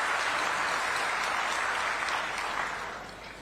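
Loud, dense applause from a large crowd at a farmers' gathering in Raipur, welcoming a state minister, sustained throughout and fading slightly toward the end.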